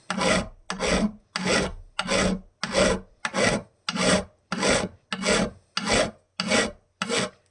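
A coarse file rasps across wood while a Telecaster-style guitar body is shaped, twelve even, firm strokes in a steady rhythm, close and loud with short pauses between them.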